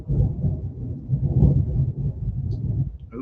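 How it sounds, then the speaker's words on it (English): Thunder rolls in a long, low rumble that swells and fades over several seconds, deep and fairly loud, with no talking over it. "I really hope y'all can hear this because it's so cool listening to thunder"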